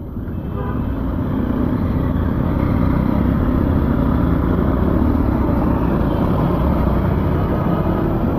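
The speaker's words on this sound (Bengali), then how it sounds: "কার্বোরেটরের ভিতরে রিজার্ভ যে ফুয়েলটা থাকে সেই ফুয়েলটাতে বাইকটা স্টার্ট হয়ে গেছে" A motorcycle engine idles steadily up close while running on the little reserve fuel left in its carburettor, a continuous loud rumbling drone without any pauses.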